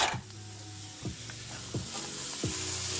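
Chopped onions, peppers and celery sizzle in a dark gumbo roux, a steady close crackle broken by four regular scrapes of a spoon stirring through the pot.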